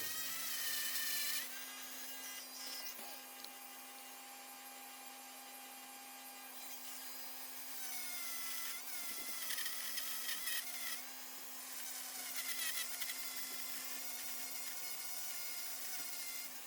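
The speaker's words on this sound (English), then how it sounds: "I'm switching out to a small cylinder bit or drum bit, which is flat on the end, and that lets me smooth out the edges of the inlet" A rotary tool with a small flat-ended drum bit smooths the edges and floor of an inlet in a Schrade Old Timer Trapper knife handle, a steady high whine with scratchy grinding bursts as the bit touches the work.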